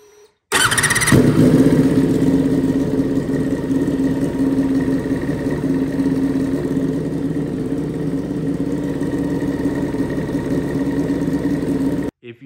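A motorcycle engine set to 20 degrees ignition timing starts up with a brief burst, then settles into a steady, loud, close idle that runs without a break for about eleven seconds.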